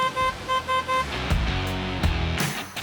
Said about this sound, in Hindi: इसमें हॉर्न बड़ी गाड़ियों वाले दिए गए हैं।